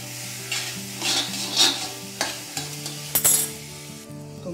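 A spoon stirs poppy seeds with cardamom in a pan of coconut milk and vermicelli kheer, giving repeated scraping sweeps in a loose rhythm over a low simmer. The sound is close and moderately loud.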